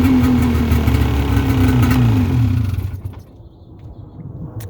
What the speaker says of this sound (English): it's a 2-stroke. Pretty quick throttle response overall.